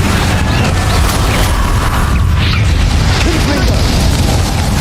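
An Incendio fire spell is cast in Hogwarts Legacy, giving a continuous loud, roaring boom with heavy low rumble. Game voices and battle noise run underneath throughout.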